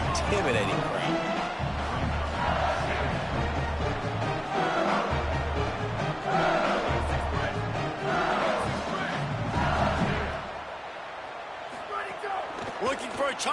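A college football crowd at LSU's stadium yells and screams throughout, a loud, continuous roar with surging waves and pounding low thumps that ease off briefly near the end.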